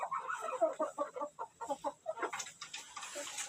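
Hens and a rooster of cold-hardy breeds cluck inside a chicken coop, a busy run of short, quick clucks at moderate distance with no voices.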